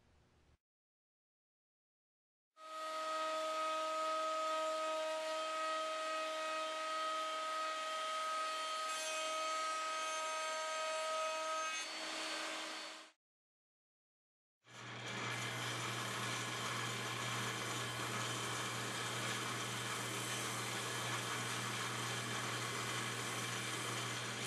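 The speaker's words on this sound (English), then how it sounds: "I cross cut this board with the tilted blade on the table saw" A table saw with a tilted blade roars at a high steady whine for about ten seconds, pauses briefly, then starts again with a deeper, grinding cross cut through a board.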